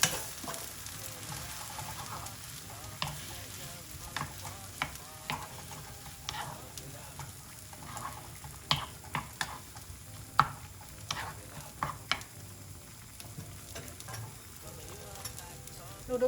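Vegetables seasoned with salt and chili flakes stir-fry in a pan, a steady sizzle broken by frequent sharp scraping and clacking strokes of a utensil against the pan, close and alone with no talk.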